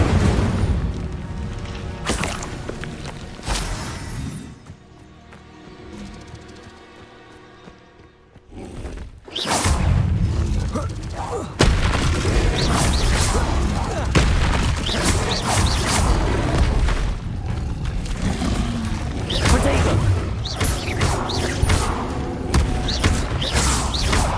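Spells such as Incendio, Levioso and Protego are cast in Hogwarts Legacy, producing loud booming blasts and crashing impacts. A quieter lull falls midway, followed by a dense run of repeated bursts and thuds.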